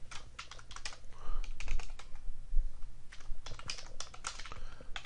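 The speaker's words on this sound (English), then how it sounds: "and then just type in whatever the message is." Rapid, uneven keystrokes on a computer keyboard while an email message is typed, clicking steadily for several seconds at close range without any talk.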